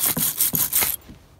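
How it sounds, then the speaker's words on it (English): Wire brush scraping debris off a front brake caliper on an Acura TL, four quick rasping strokes in steady rhythm, close and fairly loud, then a faint trailing scrape. "You're just gonna get a wire brush and you wanna scrape all the debris and stuff."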